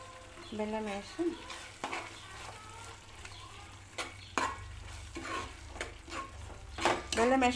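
Bitter gourd curry with added jaggery being stirred in a frying pan, giving a steady sizzle with repeated scraping strokes of a spoon against the pan over several seconds, fairly close, with a little background voice.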